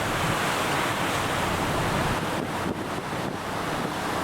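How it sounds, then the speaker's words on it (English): A calm sea seen from a cruise ship deck gives a steady, loud wash of water and wind rush with no break, and no voices over it. "It's now a calm sea."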